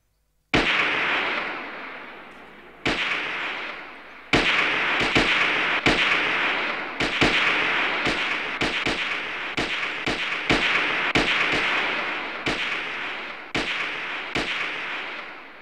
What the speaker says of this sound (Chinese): 我和老总用卡宾枪，主席打手枪